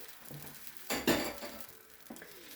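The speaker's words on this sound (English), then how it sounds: "So we're just going to toss the rest of it there on the griddle" Leftover sweet egg mixture with a touch of maple syrup hits a hot griddle with a brief, soft sizzle, accompanied by a scrape and light clinks of a utensil, quiet and close.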